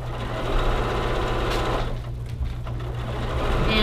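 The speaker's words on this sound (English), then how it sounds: "Again, sewing with your 1/4 inch seam allowance." A sewing machine stitches a quilt seam at a quarter-inch allowance, a fast, even mechanical whirr with a brief slowdown midway before resuming steadily.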